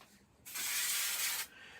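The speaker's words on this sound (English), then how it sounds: "So I'm going to spray glue this for speed and to make it quicker for myself" One steady hiss of spray glue lasts about a second onto black craft material, loud and close, then stops.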